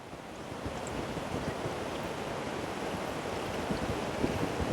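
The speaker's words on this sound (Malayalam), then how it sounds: "തിരമാലയൊക്കെ അടിച്ചു കയറി തന്നെ വന്നിട്ടോ." Ocean surf breaking steadily at Munambam Beach in rainy weather, a continuous loud roar of waves with wind buffeting the microphone throughout, no voices.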